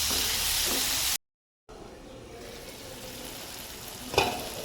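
Onion and tomato frying in a pan for biryani give a bright, hissing sizzle that fades after a short break into a softer, steady crackle, with a clattery stir or scrape near the end.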